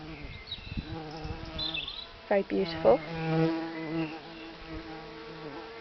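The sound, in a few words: common carder bumblebee buzzing at Welsh poppies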